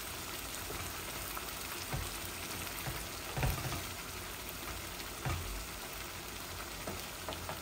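Chicken bhuna fries gently over half flame in a pan, giving a steady soft sizzle with occasional stirring scrapes and small pops, close by and without any voices.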